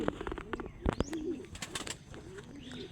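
Racing pigeons coo in short repeated low bursts, close and fairly quiet, mixed with a few sharp clicks and taps, with no talking.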